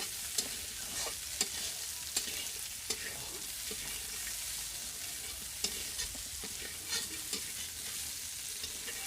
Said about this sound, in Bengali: ফুলকপি ভাজার সময় আস্তে আস্তে করে জাল দিতে হবে যাতে ফুলকপিগুলো পুড়ে না যায়